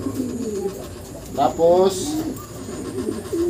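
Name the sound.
pigeons cooing at a pigeon fancier's loft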